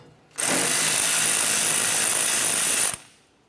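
A power tool spins off the 12mm nut holding the wiper arm on a 2004-2006 Scion xB, one steady, loud whirring burst of about two and a half seconds, then stops.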